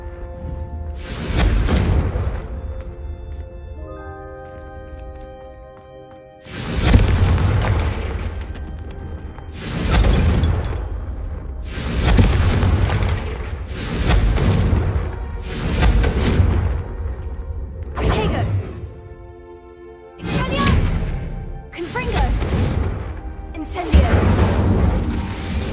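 Repeated magical fire-blast spell effects in a wizarding video game, a series of loud booming whooshes in bursts over roughly eight impacts, with musical tones beneath and occasional voices.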